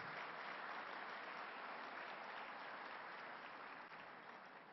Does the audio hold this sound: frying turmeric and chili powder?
no